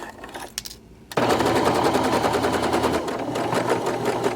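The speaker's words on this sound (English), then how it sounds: "I'll drop the presser foot, make sure that I'm not sewing over that zipper tape" A sewing machine stitches a seam along zipper tape. A brief pause is followed by a fast, even mechanical rattle that runs loud and close to the end.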